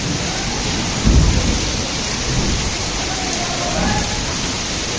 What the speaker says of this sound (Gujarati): ડેન્જર કડાકા ભડાકા થાય છે.